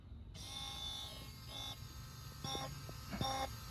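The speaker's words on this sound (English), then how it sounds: "I just want to test this fuel pump to make sure it's sucking" An electric fuel pump on a barn-find Datsun 280Z starts up and runs with a steady high-pitched electric whine and buzz, close by, pulsing slightly as it draws fuel, no voices.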